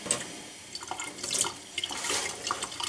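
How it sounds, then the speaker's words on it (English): Broken-up cottage cheese is rinsed under running tap water, a continuous splashing hiss with uneven surges and small drips. "I'm going to break it all up and rinse it"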